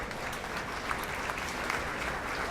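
A crowd at a high school sports awards ceremony applauds honorees, a dense, even wash of clapping that holds steady throughout without any voices.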